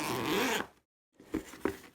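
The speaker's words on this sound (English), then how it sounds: "Zippers work nice and easy." Zipper on a front pocket of a Latitude 64 disc golf bag, heard as a close, quiet zip pull, then a pause and a couple of short rasping tugs.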